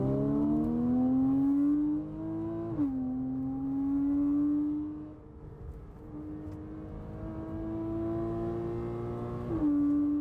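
A modified Porsche 987.2 Cayman S accelerates hard along a road, its engine note climbing steadily through gears with clear shift drops near three and nine and a half seconds, heard from inside, loud and without talk.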